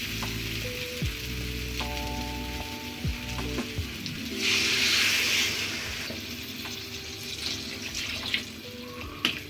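Water poured into a pan of frying young jackfruit and shrimp, a bright hissing sizzle swelling for a few seconds over soft clinks and kitchen background, with no talking.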